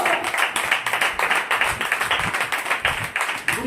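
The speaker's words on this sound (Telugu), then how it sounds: "కొట్టు గట్టిగా చప్పట్లు" A congregation at an Apostolic church Sunday service claps hard and fast, a steady rhythmic stream of loud, close hand claps with no break.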